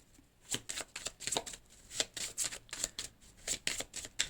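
A deck of cards is shuffled close up for a card reading, giving quiet, rapid riffling bursts in quick repeated rhythm.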